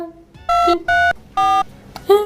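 Phone dialing tones sound while someone calls a housemaid on a large-screen phone: a short run of distinct, loud, steady electronic beeps of varying pitch, spaced with brief gaps and no talk.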